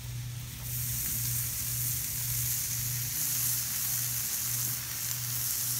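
Bacon frying in a pan for burgers, a steady bright sizzle that swells after a quieter start and holds constant, with a faint pulsing hum underneath.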